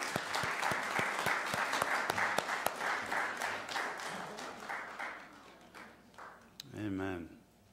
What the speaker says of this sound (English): we can give them a round of applause there